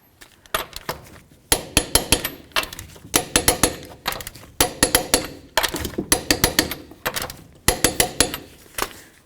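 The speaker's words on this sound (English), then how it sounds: "torquing these lug nuts" A torque wrench tightening the lug nuts on a 2007-or-later Toyota Tundra front wheel, sharp metallic clicks in quick bursts of several, repeated in distinct groups with pauses, close and fairly loud.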